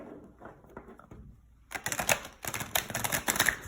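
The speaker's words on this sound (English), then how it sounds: "Let me see how they shuffle like that." Soft handling of tarot cards at first, then a burst of rapid riffling clatter as the tarot deck is shuffled, close and crisp, with no voices.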